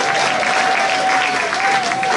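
Continuous loud applause from an audience at a local candidates' event in a studio, an even unbroken roar of many hands clapping throughout.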